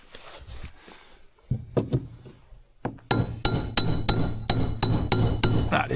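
Hammer strikes while repairing a wooden farm door: a few scattered knocks at first, then a quick series of sharp, ringing metallic blows close by, regular and loud toward the end.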